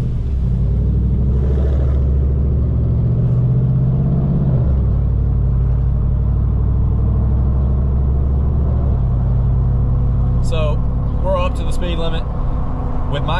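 A pickup truck with true dual exhaust, 3.08 gears and 33-inch tires cruises around town with windows down, giving a deep steady exhaust drone and rumble that shifts pitch as it accelerates, with a brief voice later on.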